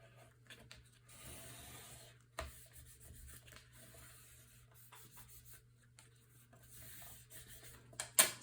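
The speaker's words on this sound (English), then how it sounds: "And then I'll use my bone folder to burnish this down." Bone folder rubbing and burnishing paper down onto a Stamperia Vintage Library mini album cover, a soft continuous dry scraping in repeated strokes, close and quiet, with a sharper tap near the end.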